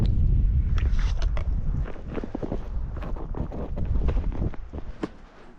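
Gusty winter mountain wind on the Berg Lake Trail buffets the microphone in low rumbling bursts, strongest at the start, with some scattered clicks and knocks underneath.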